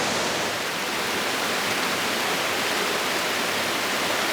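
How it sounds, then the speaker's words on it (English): A waterfall pours with a steady, close broadband roar of rushing water, loud and unbroken throughout, with no voices over it. "And how do you pass up a waterfall like this?"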